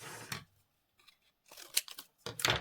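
Scissors snipping through paper during a crafting session, a few crisp separate cuts spread across a couple of seconds, close and fairly quiet with no talking.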